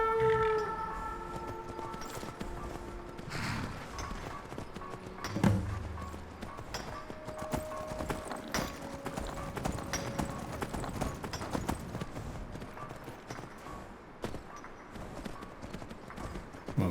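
In Skyrim, horse hooves clop in a steady rhythm, close and clear over faint game ambience, with a brief whinny-like tone and occasional louder thuds.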